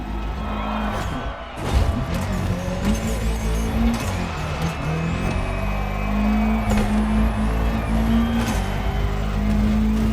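Rally car racing toward dirt in The Crew Motorfest, a steady loud engine drone with shifting pitch, brief tire noise and a few swooshing pass-bys, with no talk.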